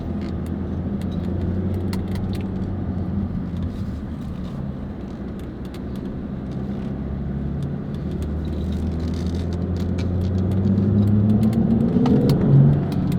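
A Range Rover twin-turbo V8 engine idles with a steady low rumble, then swells as it revs higher near the end, heard from inside or close to the vehicle.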